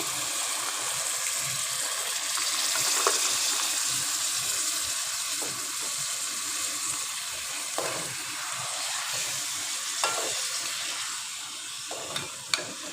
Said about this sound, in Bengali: সিমের বিচিটার সাথে ছুরি শুটকি, টমেটো, মশলা সব একসাথে সুন্দরভাবে এটাকে মাখিয়ে নিতে হবে